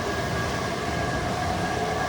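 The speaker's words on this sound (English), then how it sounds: "here comes the sub or a train" A Silver Line subway train arriving at a station: a steady, loud rumble and rolling roar with a high, sustained whine over it, continuous and close by, with no talking.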